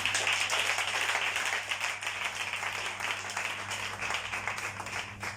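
A congregation at a prayer gathering claps and applauds continuously, a dense, steady wash of many hands filling the whole stretch, fairly loud, with no clear talking over it.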